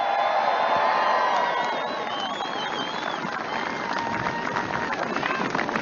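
A large rally crowd at a political campaign event in Dubuque, Iowa, applauds and cheers veterans, a steady wash of clapping and shouts, with a voice carrying over it.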